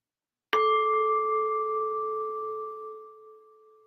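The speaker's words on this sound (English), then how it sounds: "I'll begin by ringing the bell." A single meditation bell struck once, ringing out with a clear, pure tone that lingers and slowly fades in an otherwise silent space.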